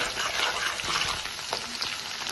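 Small shallots sizzling in hot oil in a pan for a Telugu green moong dal and drumstick lentil soup, a soft, continuous crackling fry with faint stirring scrapes, close and steady.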